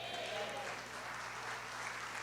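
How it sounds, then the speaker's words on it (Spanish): A church congregation claps together, a fairly quiet, steady patter of many hands with a low hum beneath and a voice speaking briefly in the background. "Dale fuerte ese aplauso a Jesús."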